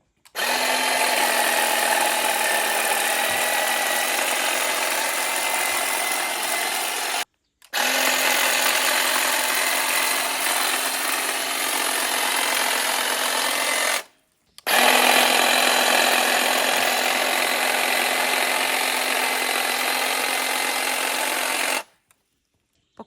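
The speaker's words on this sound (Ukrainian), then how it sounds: "Беру великий свій кущоріз. Зараз покажу, як він працює." A Procraft hedge trimmer cuts bushes in a village yard, its steady high motor whine and buzzing blades running in three long bursts with short silent pauses between them.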